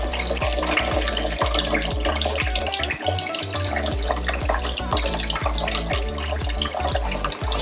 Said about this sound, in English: While the water is running,